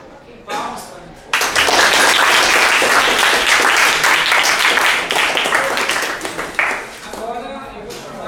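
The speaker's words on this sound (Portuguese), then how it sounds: "Palmas" Students in a school classroom debate break into loud, dense applause that swells suddenly and holds steady for several seconds before tapering, with brief voices at the start and end.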